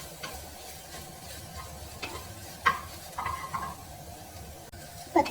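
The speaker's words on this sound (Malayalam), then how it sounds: "കുറച്ച് നേരം കൂടി നമുക്കൊന്ന് ഇളക്കി കൊടുക്കാം" Chopped onions being stirred as they fry and brown in a pan for iftar snacks, a soft continuous sizzle with occasional scraping and clinks of the spoon against the pan.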